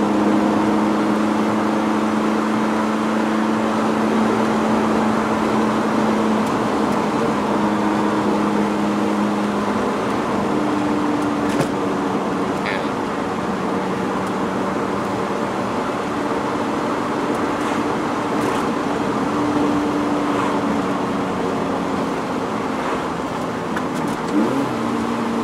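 Steady cabin drone of a 2020 Lotus Elise Sport 220 on a rough road, a constant engine hum with slowly shifting pitch and faint road rumble, loud and continuous throughout with no talking.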